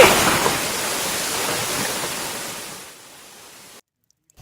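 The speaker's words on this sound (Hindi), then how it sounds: "इसकी कलकल करती आवाज जब कानों में पहुंचती है" Water rushes and gurgles steadily at close range, a broad continuous wash like a strong stream or outflow arriving in Mandsaur, fading slightly before cutting to silence near the end.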